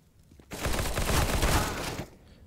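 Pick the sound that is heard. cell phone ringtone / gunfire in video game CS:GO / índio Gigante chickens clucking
gunfire in video game CS:GO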